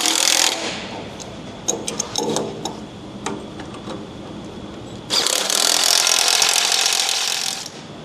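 Ratchet wrench tightening a brake nut on a car, a quick burst of clicking followed by a run of separate ratcheting strokes, then a longer continuous rattle of clicks close by.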